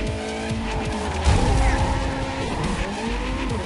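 Car drifting in the Ridge Racer Unbounded racing game, with a steady engine roar and tire squeal through the slide and a louder surge midway. The sound runs continuously and stays close and loud.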